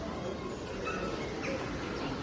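Birds chirp and pigeons coo in the open air at Eyüp Sultan Mosque, a steady chorus of calls at moderate distance over a soft ambient background.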